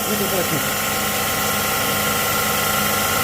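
A salvaged refrigeration-unit compressor runs loudly and steadily with a dense mechanical hum and rattle, nearby and continuous throughout.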